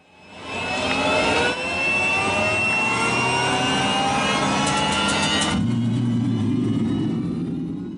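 Training aircraft near an airport: a loud, steady jet-like engine roar with rising whine tones that sweeps close by, then continues as a lower, even rumble, with no voices.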